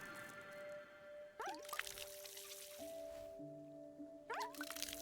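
In the video game Wanderstop, water splashes and trickles from a watering can onto an egg in bursts, mixed with bright synthetic game tones and chimes layered over a soft musical backdrop.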